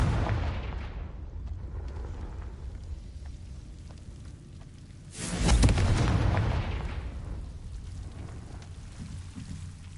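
The Confringo blast spell in Hogwarts Legacy erupts as a sudden booming burst partway through, rising over a steady low rumble of game ambience and fading into a lingering roll.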